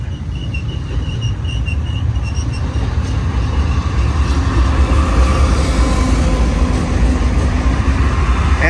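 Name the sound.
long freight train with BNSF locomotives passing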